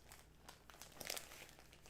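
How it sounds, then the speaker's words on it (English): A plastic zipper storage bag holding turkey is worked shut, giving soft crinkling and a few sharper plastic clicks and snaps spread over a couple of seconds, fairly faint and close, with no talking. "I'm just trying to make sure that this zipper zips all the way so that my turkey can stay fresh"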